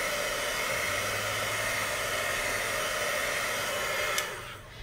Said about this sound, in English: once I hit it with my heat tool